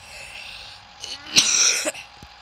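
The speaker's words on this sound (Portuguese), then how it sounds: "me desculpa a tosse" A single close, sharp cough bursts out, followed by a brief rasping trail and a short throat sound.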